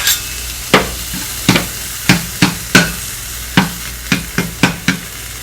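Spinach in a hot pan, a series of about a dozen sharp scraping and tossing strikes over a low sizzle, close and fairly loud.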